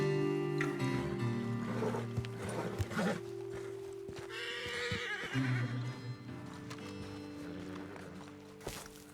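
A horse neighs and whinnies in the Red Dead Redemption 2 video game, close and fairly loud over a steady musical bed, with clopping hooves and other game ambience around it.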